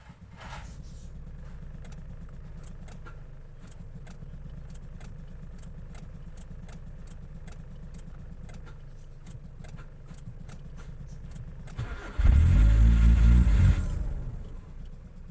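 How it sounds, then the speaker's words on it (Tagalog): A faulty car's engine idles steadily and close, a low constant rumble with faint regular ticking, then swells briefly into a loud revving surge near the end before settling. "So narinig niyo yung andar ng kotse ko."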